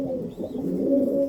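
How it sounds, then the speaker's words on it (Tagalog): Pigeon in a loft cooing close by, a continuous low throaty warble that rises and falls over a second or so, alone with no talk. "Ito yung kalapati dito na ayaw talaga tumigil ng pag-iingay pag hindi ko siya hinawakan."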